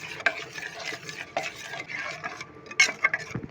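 Mutton curry with ground garam masala being stirred in a pan, a spoon scraping and clinking against the metal in uneven strokes, close and moderately loud, with a faint sizzle underneath and no talking.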